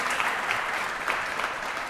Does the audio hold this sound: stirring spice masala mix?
no